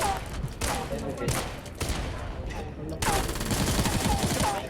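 Rapid bursts of automatic gunfire in the mobile shooter Knives Out, dense fusillades cracking back to back in a continuous barrage with a brief lull, loud and close, with faint voices underneath.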